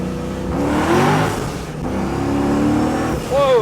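A 1979 Chevrolet Camaro Z-28 pro-touring car roars as it accelerates hard, engine note rising and falling through gear changes, loud and close, ending with a sharp tire squeal.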